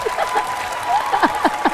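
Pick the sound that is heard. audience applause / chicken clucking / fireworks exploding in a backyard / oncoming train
audience applause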